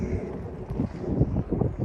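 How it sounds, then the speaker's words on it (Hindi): Wind gusts across the microphone outdoors in a cold winter London neighbourhood, producing a continuous low rumble that swells and buffets unevenly. "इस टाइम दोबारा हवा चलनी शुरू हो गई है।"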